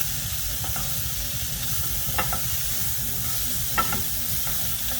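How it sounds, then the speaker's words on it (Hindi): Grilled potatoes with herbs stirred and mixed in a hot pan, giving a steady sizzling hiss with a few soft scraping clicks of the utensil, and no talk. "पहले अभी हम ये सब चीज़ें मिक्स कर लेंगे and we will let all these flavours coat these potatoes well"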